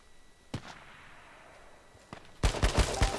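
In the video game H1Z1, two isolated gunshots crack out, then a rapid burst of several more shots follows close together, loud and sharp.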